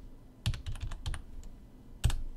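A computer keyboard typed in short bursts of several crisp keystrokes, then a pause and one last louder key press, as a GPG version command is entered; close and alone, no talking.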